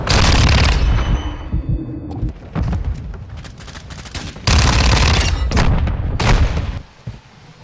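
A grenade blast and bursts of gunfire in Modern Warfare 2 multiplayer with a fast-firing SMG: a loud booming explosion opens, followed by several heavy rapid-fire volleys with brief gaps between.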